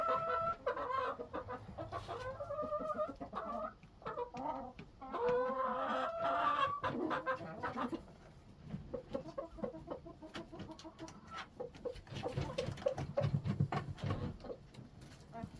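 Chickens cluck and chatter close by, a busy run of clucks with a few louder squawks mixed in and no talking.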